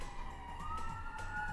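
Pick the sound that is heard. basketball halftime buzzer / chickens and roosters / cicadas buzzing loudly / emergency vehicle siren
emergency vehicle siren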